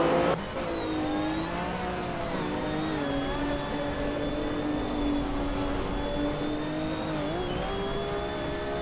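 Race cars in a racing video game, several engines whining at a high sustained pitch that rises and falls slightly as they hold speed, loud and continuous from start to finish.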